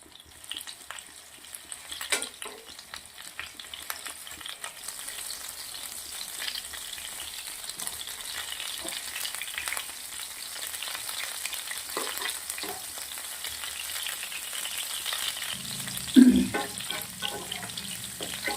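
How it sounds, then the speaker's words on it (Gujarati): Paneer roasting in hot desi ghee in a kadai gives a steady, close, broadband sizzle that lasts throughout, with scattered small crackles and a brief louder clatter late in the run. "કઢાઈના અંદર 1 મોટી ચમચી ભરી અને દેશી ઘી ગરમ મૂક્યું છે. પનીર મૂકી દીધું છે. થોડું પનીરને શેકી લેશું ઘીના અંદર."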